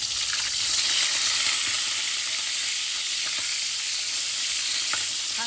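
Food sizzles steadily in a hot pan just after being flipped, a loud, continuous frying hiss with faint occasional scrapes and no talk.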